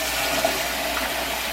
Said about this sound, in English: I'm going to just run them through cold water